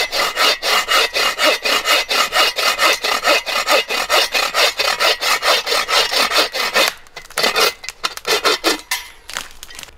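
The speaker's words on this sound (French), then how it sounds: "T'as une scie qui t'as pas peur de couper une section comme ça" A hand saw rasps through a dead wood branch in fast, regular back-and-forth strokes, close and loud, briefly pausing before resuming a slower, uneven rhythm.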